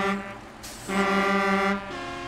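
A truck horn sounds in the off-road driving game SnowRunner, two sustained blasts, the second longer, loud and close, with engine hum beneath.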